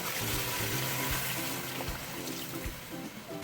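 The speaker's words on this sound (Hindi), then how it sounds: "अब इसमें हम पानी ऐड करेंगे" Water pours and splashes into a cooking pot of mutton and potato curry, a steady close stream with some gurgling, no talking.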